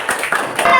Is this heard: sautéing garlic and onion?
no